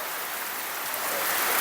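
Steady rain pouring down over farmland during a wet season, a dense, continuous hiss that stays even and close and grows slightly louder toward the end.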